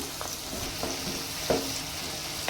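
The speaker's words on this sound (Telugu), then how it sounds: "ఇప్పుడు మనం కట్ చేసుకున్న ఆనియన్స్ వేసుకుందాం." Chopped onions frying in about three spoons of oil in a pan, with turmeric added, while cooking avakaya fried rice: a steady, moderately loud sizzle with a few brief stirring knocks on top.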